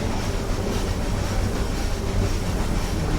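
The Ooty toy train runs on the mountain line from Mettupalayam to Ooty, a steady close rumble of carriages with clattering wheels and a dense, continuous rolling noise.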